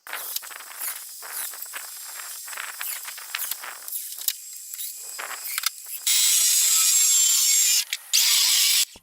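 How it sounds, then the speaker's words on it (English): Wooden siding boards for a traditional forest cabin are cut diagonally to match the roof slope, giving close, steady rasping saw strokes that end in two loud, sustained bursts of power-saw noise. "The boards are cut diagonally to match the slope of the roof."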